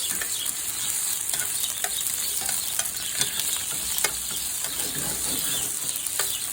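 Chopped onions sizzle in hot corn oil in a pan, a continuous bright frying hiss with scattered pops and occasional stirring scrapes, close and steady with no talking.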